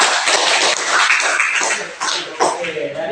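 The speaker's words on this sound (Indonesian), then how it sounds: "berikan tepuk tangan untuk kelompok" Classroom students clapping for a group of classmates, a burst of dense, close hand claps lasting a few seconds.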